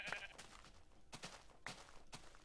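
Minecraft sheep bleating in several short, nasal calls spaced about half a second apart, moderately quiet over a faint background.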